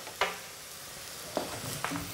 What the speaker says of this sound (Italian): الفطر نرميو الأرز ونزيدو نقليوه